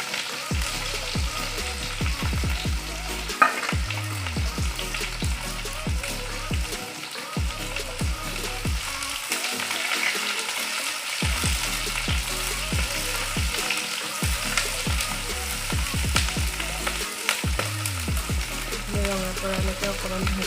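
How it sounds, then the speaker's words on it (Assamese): Onion and garlic frying in oil in a pan, with a loud, continuous close sizzle and crackle throughout, and occasional stirring scrapes. "ৰঙা পৰালৈকে অকণমান ভাজি ল'ম।"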